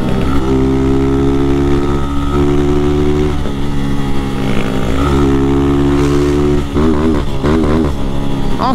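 A 160cc motorcycle engine revs loud and close while the rider works the clutch. The rhythmic rev pulses rise and fall over a rough, steady idle, ending in a quick flurry of wavering revs.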